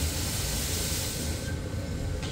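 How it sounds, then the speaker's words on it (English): Steady, loud steam hiss blowing continuously from a steam locomotive's cylinder drain during boiler warm-up, with a low rumbling undertone throughout. "got steam blowing through on that one, which is what we want"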